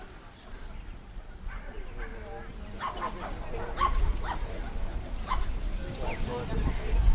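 A Dandy Dinmont Terrier female at an Australian championship dog show gives a few short yips and barks amid a busy hall murmur, with people talking nearby.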